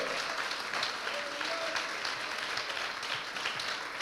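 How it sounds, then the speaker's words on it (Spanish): A congregation at a Wednesday night church service claps in a thick, continuous ovation to the Lord, a sustained roar of many hands with faint voices mixed underneath. "dale un aplauso al Señor bien fuerte en esta noche"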